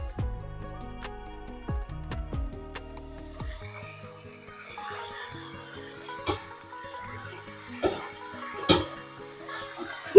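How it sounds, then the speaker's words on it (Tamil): Batter-coated prawns for dynamite shrimp deep-frying in hot oil: a dense, steady sizzle rises after a few seconds of tonal notes and keeps crackling close up to the end, with occasional sharper pops. "இப்போ இந்த ஆயில் நல்லா லைட்டாக கொஞ்சம் ஹீட் ஆனோடனே நம்ம கோட்டிங் பண்ணி வச்சுருந்த ப்ரான்ஸையும் உள்ளே ஆட் பண்ணி டீப் ஃப்ரை பண்ணி எடுத்துக்கலாம்"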